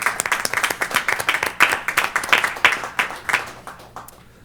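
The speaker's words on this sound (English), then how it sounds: "I think the staff deserves a round of applause for their efforts" An audience at an aviation commission meeting gives a short round of applause for the staff, dense clapping that builds and then fades out after a few seconds.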